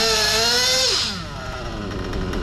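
A nitro-powered RC car engine idling rough and slightly rich, a loud close buzzing drone that drops in pitch partway through and settles into a steady, slightly uneven idle, with no talking.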